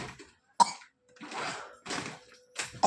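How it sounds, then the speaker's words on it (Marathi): A child coughs in several separate harsh bursts, close by, with short pauses between them and no talking. "खोकला कस का आला लागला तुला"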